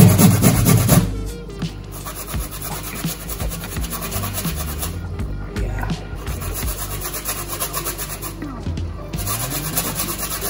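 Fresh ginger being grated by hand on a grater, a loud close rasping scrape that repeats in steady strokes for several seconds with a brief pause partway.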